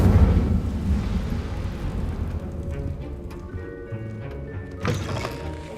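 Incendio fire spell cast in the video game Hogwarts Legacy, a loud whooshing burst at the start that fades into rumbling game ambience, with a second flare of fiery crackle near the end.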